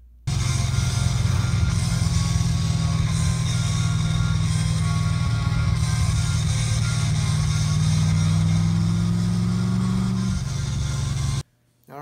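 A car engine, fitted with a wideband air-fuel ratio gauge and idle mixture screws, runs steadily and loudly, its note rising as the throttle is punched, then falling back before cutting off abruptly.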